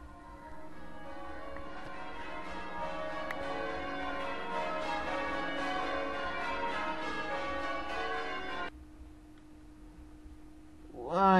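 Bell tower chimes from a game music disc ring out in layered, sustained tones that fade and stop abruptly, followed by a quieter pause and a brief rising sound at the end.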